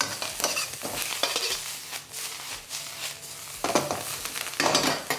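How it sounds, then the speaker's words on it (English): Leftover ingredients stir-fried with preserved foods in a hot pan, sizzling steadily with repeated scraping and tossing strokes of a utensil, close and fairly loud, no talk. "Now I'm actually stir frying these ingredients for a good sort of 2 to 3 minutes"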